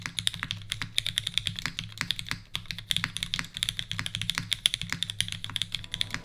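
Steady clacking from a mechanical keyboard being typed on, crisp keystrokes in a brisk uneven rhythm, close and clear, with no voices.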